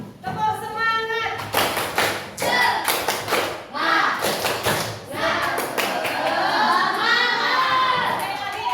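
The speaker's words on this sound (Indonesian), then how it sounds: "Sekali lagi ya, tepuk semangat." A classroom of students doing a rhythmic spirit clap, with bursts of patterned group clapping and shouted chanting voices, loud and close, followed by lingering chatter.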